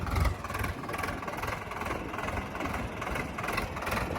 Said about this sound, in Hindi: अभी भाई ऊपर चढ़ाई पे चल रहा हूँ, देखिए ट्रैक्टर है